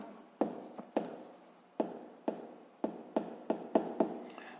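Pen strokes on paper while working a 6th-grade math exercise, a series of about a dozen short scratching marks close up, irregularly spaced and quickening toward the end, with no talking.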